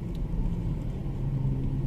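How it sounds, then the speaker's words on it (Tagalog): Steady low road traffic rumble heard from inside a car driving through Lapu-Lapu City, Cebu, near the Mandaue bridge, with a continuous engine drone and no talking. "It's traffic now."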